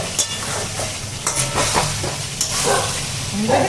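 Aloo dum being stirred in a kadai, with scraping spoon strokes and soft clinks over a continuous low sizzle, close and fairly loud.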